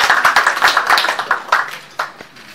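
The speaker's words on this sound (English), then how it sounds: "Minister, have another round of applause." Audience applause for a minister at the inaugural meeting of a biotechnology center, a brief burst of scattered clapping that thins out toward the end.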